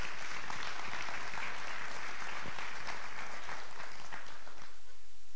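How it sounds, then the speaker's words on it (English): An audience at a members meeting breaks into sustained, dense applause of many hands that carries on evenly and then tapers off near the end. "Give Dan a round of applause."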